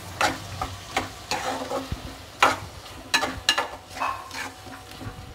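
Cashews being stirred into a pan while cooking a prawn curry, a spoon scraping and clattering in repeated strokes over a soft sizzle, close and moderately loud, no speech.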